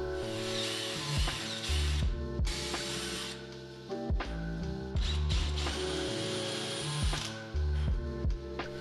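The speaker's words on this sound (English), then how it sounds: "drilled holes for the plugs using this incredibly dull drill bit" A dull drill bit bores plug holes in pressure treated wood, with repeated bursts of grinding, ratcheting drill whine that start and stop several times, loud and close.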